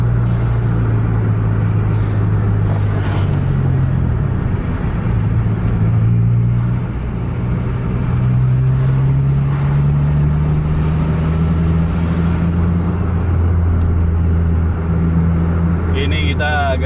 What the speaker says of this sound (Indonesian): Posisi jalan cukup padat kendaraan, banyak truk.